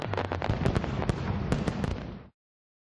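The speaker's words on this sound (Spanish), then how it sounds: "empieza un espectacular show de fuegos artificiales lleno de luces y colorido." New Year fireworks show over the Kremlin in Moscow: a loud, dense run of rapid bangs and crackling bursts that stops abruptly after about two seconds.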